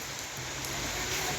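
Steady rain falling on a wooden field hut in the rice paddies, a constant close hiss of drops without gaps or talk.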